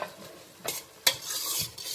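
Chicken macaroni ingredients with onions, garlic-ginger paste, spring onions and green chillies fry in a pan, a soft sizzle under a few sharp scrapes of a spoon stirring against the metal.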